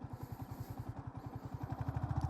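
A 150cc sports motorcycle engine pulses rhythmically while riding in the city, a faint, throbbing low drone that grows slightly louder toward the end.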